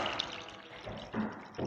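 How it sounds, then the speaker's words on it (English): Oat milk poured into a cup, a quiet close trickle in a few short, soft surges. "So I'm just going to pour that into my cup."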